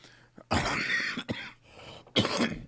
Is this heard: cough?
yes